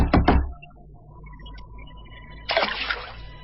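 Water from a bathroom shower splashes and patters steadily in the background, with a louder burst of spray near the end, staged as a radio drama sound effect.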